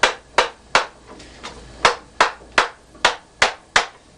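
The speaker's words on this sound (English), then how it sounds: "Now that we have it all in place, I'm going to hammer it lightly" Light hammer taps on glued leather pieces of a handmade Viking-style boot, about eleven crisp, evenly spaced strikes in a steady rhythm, close and fairly loud, with no talking.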